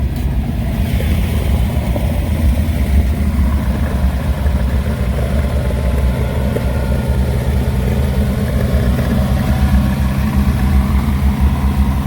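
V8-swapped Porsche 914 idling on choke at high revs, a loud steady close-up engine drone with a deep low rumble that holds unchanged throughout.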